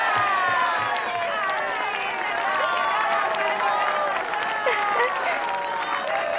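A cartoon audience applauds and cheers for a singer taking the stage at a show, dense crowd clapping filling the whole stretch while animated voices talk over it.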